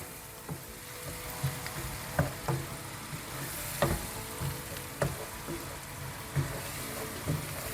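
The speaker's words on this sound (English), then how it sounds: "Let that butter melt and the onions saute." Onions sautéing in melting butter in a pan, a gentle continuous sizzle with scattered light utensil taps and scrapes at an irregular pace, fairly quiet, with no talking.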